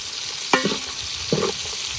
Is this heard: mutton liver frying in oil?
yes